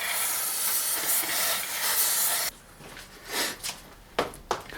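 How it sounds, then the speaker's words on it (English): Compressed air blows in a loud, steady hiss to cool a freshly ground metal part from a cylindrical grinding attachment, then cuts off, leaving a few short bursts and faint shop noise. "I have to wait and use compressed air to cool it down"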